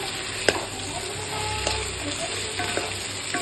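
Country chicken curry with green chillies being stirred in a pan as the meat releases its oil, a low steady sizzle with a few isolated spatula knocks, close but fairly quiet.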